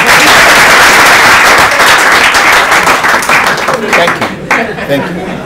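Live audience applauding and cheering for the comedian Jugush at a televised talk show, dense sustained clapping close and loud, thinning out toward the end, with some talk over it.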